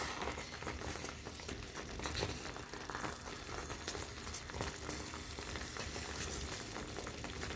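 Semolina halva sizzles and crackles softly at the bottom of the pot, a faint, steady, dense frying noise heard close by with no talking.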